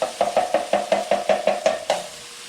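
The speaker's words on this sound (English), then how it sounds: "for our soup, we're going to go ahead and give this just a little stir to get those chunks more in there" A spoon knocks in a pot of broccoli soup during a quick stir, giving about ten evenly spaced, close, crisp clacks that slow slightly toward the end.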